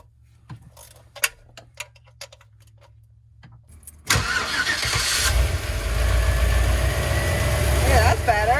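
A van engine cranks and catches after exhaust repair work, then settles into a steady, loud idle that runs to the end, following a few quiet ticks and faint voices before the start.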